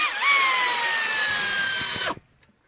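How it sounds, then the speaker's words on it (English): A power wrench spins on the brake caliper bolts of a car during a brake change, giving a loud, steady motorized whir with a falling whine for about two seconds before cutting off abruptly. "there's one on the bottom just like it that lets the caliper loose. The wrench is a bit tight in here"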